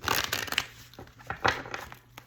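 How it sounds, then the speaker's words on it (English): Oracle cards being shuffled close up, a run of crisp rustling riffles and flicks in uneven bursts, with no talking. "Do a few more shuffles here."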